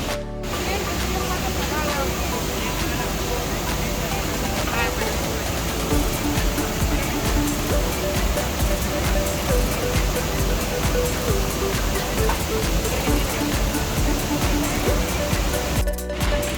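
Iguazú Falls roar as a dense, steady wall of rushing water, loud and unbroken throughout, heard from a viewpoint at the end of a jungle trail.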